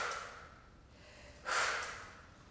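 A breathy exhale during a Pilates exercise, one soft breath early on and then a stronger, longer outward breath that tapers off, close and fairly quiet with no talk.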